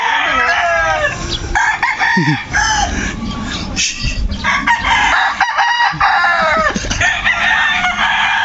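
A rooster crows repeatedly in long rising calls, with other fowl clucking and crowing around it in a busy, noisy farmyard.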